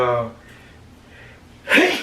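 A single sudden sneeze bursts out near the end, loud and close, after someone finishes talking in a casual conversation.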